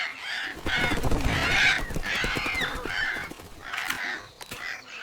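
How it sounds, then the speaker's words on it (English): A flock of birds calling in a forest, dense overlapping harsh squawks and caws from many birds at once, loud and near, continuing throughout without speech. "So many birds!"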